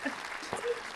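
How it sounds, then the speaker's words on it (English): Short burst of applause on a podcast for a collegiate women's basketball player, a brief small clap lasting under a second, fairly faint and mixed with voices. "we gotta give her a round of applause"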